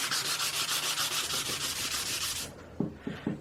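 Metal part of a costume build being sanded by hand in steady, rhythmic back-and-forth rubbing strokes, close and fairly loud, stopping partway and followed by a few light knocks.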